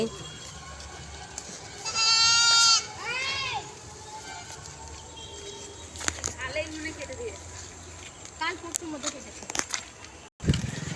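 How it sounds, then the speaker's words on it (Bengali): Small young goats bleat outdoors in a rural area, with several wavering high-pitched calls early on and fainter bleats later, mixed with a person talking and some passing background noise. "দেখুন ছোট্ট ছোট্ট ছাগলগুলো দেখুন কি সুন্দর লাগছে এদেরকে দেখে"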